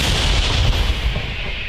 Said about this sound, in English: Ukraine relies heavily on modern howitzers like M37s to suppress the enemy and provide cover for its own troops.